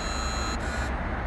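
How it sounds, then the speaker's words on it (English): A Viper 5704V remote start system on a Nissan 300ZX Twin Turbo sounds an error alert, a shrill electronic beeping tone over steady background noise, changing pitch partway through and heard close by. "what the alarm is gonna do, it's gonna give me an error message on the remote."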